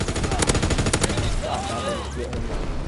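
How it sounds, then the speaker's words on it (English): A light machine gun fires rapid bursts in Call of Duty WW2, loud sharp reports in a quick stuttering rhythm that tails off into game background noise. "That was a regular light machine gun."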